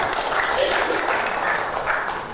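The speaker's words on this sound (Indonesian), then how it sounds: "Tepuk tangan buat Bang Effendi" Applause from an audience at a Betawi community organization meeting, a dense steady wash of clapping that fills the whole stretch at moderate loudness with no voice over it.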